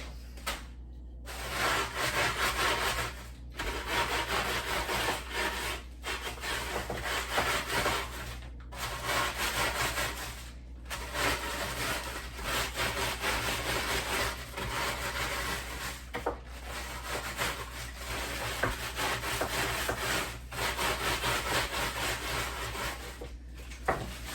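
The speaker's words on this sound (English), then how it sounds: "rolling pin makes some quick work of some pretzels, of some crackers" Rolling pin crushing pretzels and crackers for a Parmesan coating, giving a steady, close grinding and rubbing crunch that runs almost continuously, broken by a few brief pauses.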